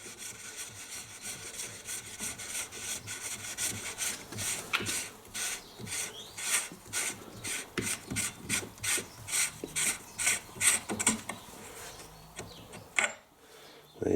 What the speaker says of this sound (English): Providing your vise is locked up nice and secure, you should be able to just unscrew.